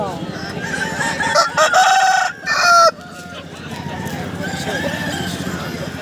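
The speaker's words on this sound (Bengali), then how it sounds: "দেশি মুরগা এটা হ্যাঁ" A large desi rooster crows loudly at a village rooster market, one strained call rising out of the crowd's babble while people talk around it.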